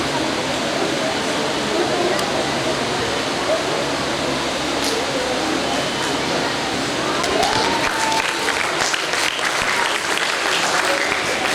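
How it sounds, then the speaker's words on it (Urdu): Steady, dense applause from an audience at a school educational exhibition in Hyderabad, continuous and full throughout, with faint crowd murmur mixed in. "تالیوں کی گونج اور گڑگڑاہٹ میں پورا ماحول آ جانا چاہیے"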